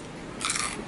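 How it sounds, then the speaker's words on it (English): Crunchy room-service fries are bitten and chewed close to the mic in a single brief, crisp crunch with no talking. "the fries are so crunchy"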